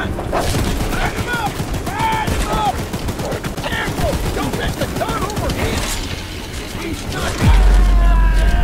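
Gunfire in the video game Choo Choo Charles, a loud dense barrage of rapid shots with mechanical clatter and tonal game sounds, sustained throughout and ending in a heavy low boom.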